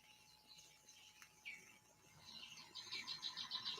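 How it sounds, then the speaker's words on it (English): A recording of birdsong plays faintly indoors, soft chirps and tweets that grow busier and more rhythmic toward the end over a quiet steady hum. "I had to turn my birds back on."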